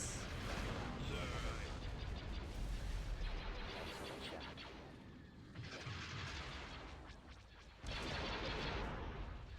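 Bomber squadrons attacking torpedo launchers in a Star Wars Empire at War space battle: dense, continuous blasts and booming weapon fire with rapid volleys, while voices talk underneath.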